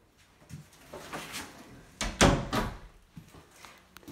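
Front door of a remodeled house in Cortland, New York, bumping and thudding as it swings open and shuts, with a louder knock partway through and softer handling noises before and after.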